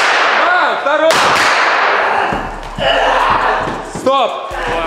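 Sharp loud bangs and cracks of pyrotechnic explosions on a music video set burst out amid shouting voices, with several blasts in quick succession and noisy commotion between them.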